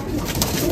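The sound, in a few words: pure white golden pigeon cooing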